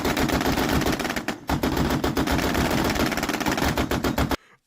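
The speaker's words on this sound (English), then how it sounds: "You can hear all of the little machine guns firing off separately." Quad Maxim machine guns fire in a loud, rapid, sustained rattle of overlapping bursts, close and dense, with a brief pause before stopping abruptly.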